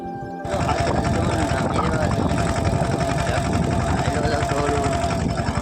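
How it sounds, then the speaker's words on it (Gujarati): A tractor running in a cotton field, a close continuous engine rumble that starts abruptly and holds steady throughout, with voices talking over it. "ટ્રેક્ટર હાલે છે"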